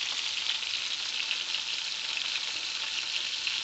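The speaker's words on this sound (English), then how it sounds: "Listen to that sizzle." Steady, bright sizzling of walleye frying in hot oil, constant and close with no pauses.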